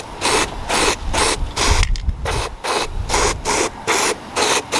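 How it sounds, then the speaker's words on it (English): Rust coating from a spray can is applied heavily inside the trunk of a B-body convertible, loud close hissing bursts repeating in a steady on-off rhythm with short gaps between. "So you want to be trying to spray all the way up in there."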